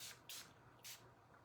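Two short bursts of makeup-melting facial cleanser sprayed close up onto a face, each a crisp airy hiss, with a third hiss following after a pause in an otherwise quiet room.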